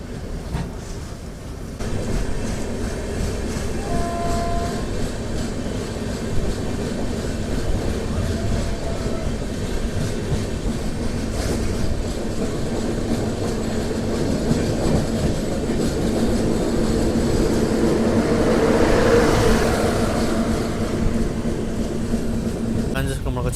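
The Visakha Express passenger train from Bhubaneswar to Secunderabad rolls past, with loud continuous rumble and wheel clatter building toward the end as the cars go by, and a voice speaking over it.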